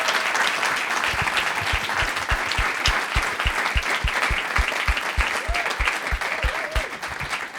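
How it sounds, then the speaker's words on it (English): At a guaranteed basic income community event, an audience gives the panelists a warm round of applause, steady crowd clapping with a few faint voices calling out and a rhythmic thumping beneath. "why don't we give a great big round of applause for our panelists here."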